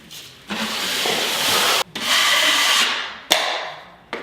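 A drywall knife scrapes wet joint compound across a water-damaged wall in long, steady rasping strokes, close and loud, with short gaps and sharp taps between passes.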